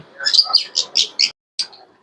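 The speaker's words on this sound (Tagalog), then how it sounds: "Maingay nga rin po itong ating alagang mga ibon" Several pet birds chirp in quick, high bursts, a busy cluster of tweets followed by a pause and a few more calls.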